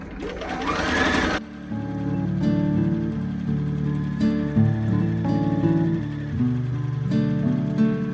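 A sewing machine stitches across the bottom of a woven pant pocket in a close, steady mechanical chatter, running continuously after a brief rising whir at the start. No one talks.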